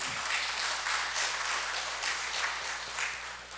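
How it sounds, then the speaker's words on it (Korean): A church congregation claps together during a worship service, dense steady applause held at moderate level throughout with a faint low hum underneath. "우리 모두가 감사를 표현하는 박수도 됩니다"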